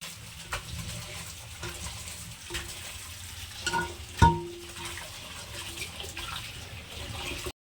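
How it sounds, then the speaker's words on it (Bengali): Jute leaves (pat shak) are swished and rinsed in water, giving a steady run of sloshing and splashing with a few sharper splashes along the way. "এখানে আমি কিছুটা পাট শাক নিয়ে নিয়েছি এটা খুব এখন ধুয়ে পরিষ্কার করে নেব"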